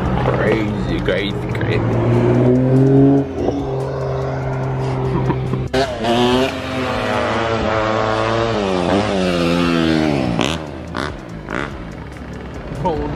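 Motorcycles pulling wheelies in the GTA video game, engines revving and whining up and down in rising sweeps, loud and close, while people talk over them.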